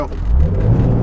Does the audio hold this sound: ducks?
no